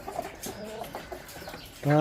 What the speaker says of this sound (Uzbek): Bular Andijon qora tovuqmi?